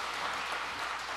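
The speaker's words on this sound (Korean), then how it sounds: "우리 같이 박수할까요?" Church congregation clapping together at a late-night Friday service, a steady broadband patter of many hands filling the room without pause for the whole moment.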